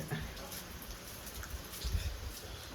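Light, steady drizzle falls continuously in Dharwad, India, a soft even patter with a few slightly louder drops near the end, and no voices.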